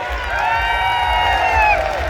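A crowd in Vadodara celebrates India's T20 World Cup win over Pakistan with loud, sustained cheering, clapping and whoops, while whistles or shrill tones rise above the noise.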